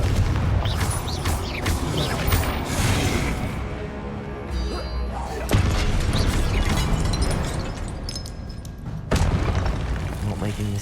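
Confringo fire spell blasts in the wizarding video game Hogwarts Legacy, heavy booming explosions and crashing combat effects rolling over a dense game soundtrack, with a character's voice calling out over the action.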